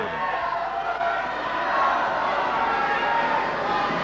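A basketball crowd in Sheffield roars and cheers steadily for a home player's three-pointer, a dense wash of voices sustained throughout.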